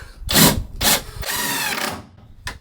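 A cordless drill drives screws into a camper van bed frame in four close, loud whirring bursts. The longer third run has a rising, straining whine before a short final blip.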